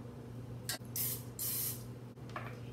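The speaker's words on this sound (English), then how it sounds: "Now we're gonna spray our 10-inch bundt cake pan." Short hissing spritzes from an aerosol can of cooking spray into a 10-inch bundt cake pan, two longer sprays in the middle and a brief one at each end, over a low steady hum.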